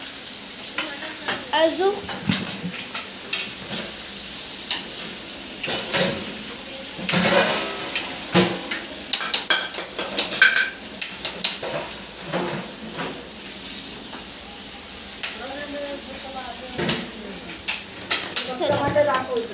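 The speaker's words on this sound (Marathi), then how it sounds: "आता मी त्यात टाकते टमाटा छान आपण त्यात परतवून घेऊया" Tomatoes sautéed with well-browned onions in a pan, a soft sizzle under repeated scraping and clinking stirring strokes, with a voice speaking at intervals.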